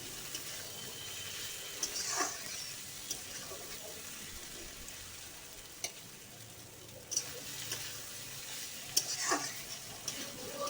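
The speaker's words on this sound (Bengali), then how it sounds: "একদম ভাজা ভাজা করে নেব ভালোভাবে।" Bitter gourd (karela) crackles in hot oil while a spatula stirs and scrapes the pan now and then, a low, continuous sizzle with sporadic sharp clinks, faint and close.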